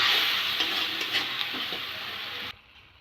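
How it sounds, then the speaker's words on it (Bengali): Spice masala of turmeric, chili powder and salt frying in oil in a pan while being stirred, a steady loud sizzle with soft scraping strokes that stops abruptly near the end. "মশলাটা ভালো করে কষে নেব"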